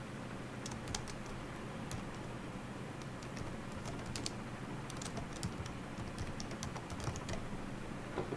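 Computer keyboard typing during a software test-debugging session, with irregular light key clicks scattered steadily across the clip over a low background hum, close and fairly quiet, no voices.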